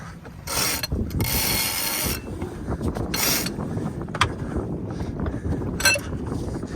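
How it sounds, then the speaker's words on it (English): Sailboat sheet rope hauled quickly through pulleys during a tack, with repeated ratcheting bursts of the blocks and sail flapping over steady wind noise outdoors. "We come over to this sheet, pull it in as quick as we can."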